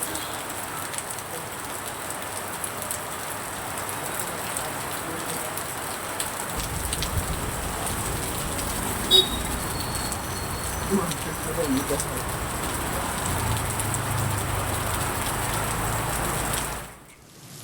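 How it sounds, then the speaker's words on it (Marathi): Heavy rain driven by storm winds pours steadily over the Khed, Ambegaon, Junnar and Shirur area, a dense continuous hiss of drops on surfaces with faint bird coos in the background. "वादळी वाऱ्यासह जोरदार पाऊस बरसतो"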